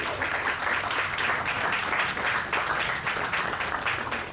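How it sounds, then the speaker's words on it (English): Sustained applause from an audience at a veterans memorial tenth-anniversary ceremony, a steady wash of many hands clapping at even loudness throughout, with no talk over it. "Can we please give them another round of applause?"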